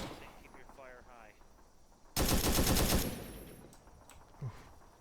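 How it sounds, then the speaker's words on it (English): Automatic M14 rifle fire in the video game Task Force Athena, a loud sustained burst of rapid shots lasting under a second, with people talking before and after. "Do you use the M14 in automatic or do you use in single?"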